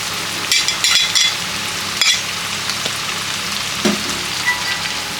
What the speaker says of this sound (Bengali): এখন আমি কাজু আর কিশমিশ ভাজবো